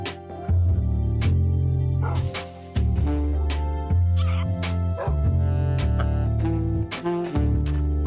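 Dogs in the Minecraft video game let out bark-like yips and whimpers in short repeated bursts, mixed with in-game music and other game sounds.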